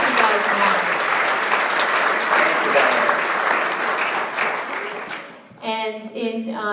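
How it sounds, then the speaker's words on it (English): Audience applause at a legal update presentation, broad dense clapping that holds steady for about five seconds, then cuts off abruptly and gives way to a voice speaking. "give Diane a big round of applause because she keeps you guys in line"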